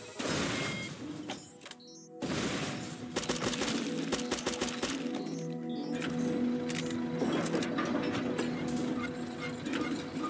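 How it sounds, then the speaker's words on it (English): Rapid AK-47 fire in Zombotron Re-Boot: sustained automatic bursts with a short pause in between, mixed with crashing impacts and mechanical game effects. "Yeah, I think AK is better because it shoots faster."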